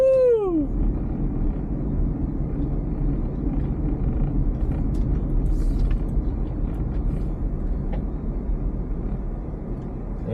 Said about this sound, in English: I'm driving in the snow.